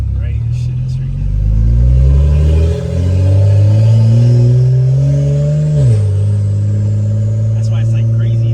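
A BMW N55 engine with an open dump revs loudly, rising and falling in a deep droning rumble. The revving swells and dips over several seconds, close by, while people talk over it.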